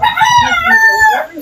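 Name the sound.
chicken crowing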